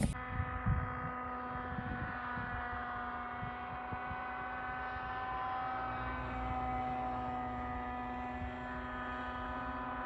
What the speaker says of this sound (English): some guys up here that fly remote control helicopters and drones and aeroplanes